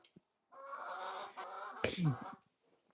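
Backyard chickens clucking close by, a brief burst of throaty clucks and squawks rising into a sharper call before fading out.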